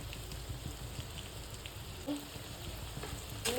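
Spices, including red chilli powder and cumin powder, fry in a pan for black pepper chicken, giving a faint, steady crackling sizzle throughout with a slightly louder pop near the end.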